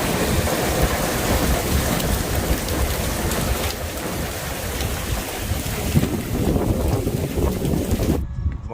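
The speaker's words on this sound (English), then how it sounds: "Started to just pour thunder, lightning." Heavy rain pours down steadily with low rumbles of thunder during a storm in Montana, a dense, loud wash of noise that cuts off abruptly at the end.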